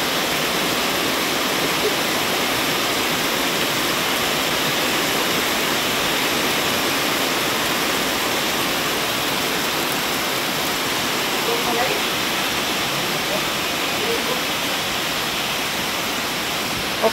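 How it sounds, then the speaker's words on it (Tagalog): Heavy rain pouring down during a storm, a loud, dense, steady hiss that never lets up, with a person talking over it at times. "Ulan na naman. Palagi na lang ulan."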